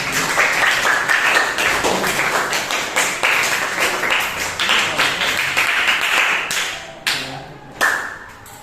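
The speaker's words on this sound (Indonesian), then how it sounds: "Beri tepuk tangan dulu untuk saya." Students clapping together in a classroom lesson, a brisk group round of individual hand claps with audible separate strikes, thinning to a couple of last claps at the end.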